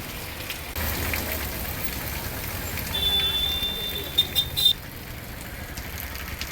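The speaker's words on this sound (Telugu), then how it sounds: "తిరుపతి నగరంలో భారీ వర్షం కురిసింది" Heavy rain with gusty winds falls across Tirupati city as a dense, continuous hiss, with a few brief louder bursts and faint tonal sounds in the background.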